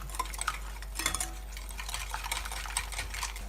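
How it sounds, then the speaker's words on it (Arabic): A spoon or whisk steadily stirs cake batter in a bowl with light, rhythmic scraping and clicking against the sides, close and soft over a low steady hum, with no talking. "نخلطوا الخليط ديالنا حتى يولي كريمي مزيان"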